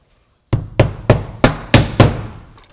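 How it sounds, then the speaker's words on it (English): A hammer driving a nail through a KasselWood steel shingle near a roof valley: six sharp, ringing metallic blows at an even, steady pace, close and loud, with no talk. "we can nail it in place"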